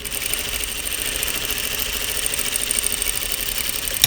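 A sewing machine stitching a flat felled seam about 1.5 inches from the edge, running as a steady, even mechanical whir and hum from start to end with no talking over it.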